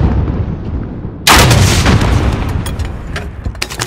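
Heavy hostile gunfire and launcher round impacts in the Call of Duty: Modern Warfare video game, a sudden loud burst of booming shots and blasts that keeps rattling on close and dense.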